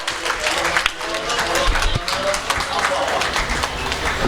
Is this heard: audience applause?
yes